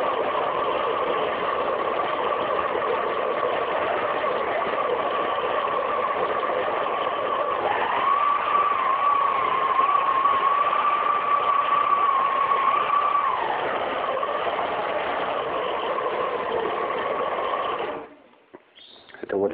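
Clatronic KM 3067 kitchen robot, a 1000-watt mixer with a fault, whines steadily at higher speed, a sustained loud motor hum with a rising tonal pitch in the middle before cutting off near the end.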